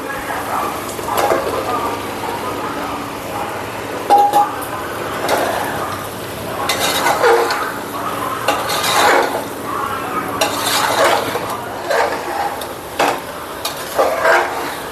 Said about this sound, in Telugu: ఇప్పుడు మనం మష్రూమ్స్ వేసి ఫ్రై చేసుకుందాం.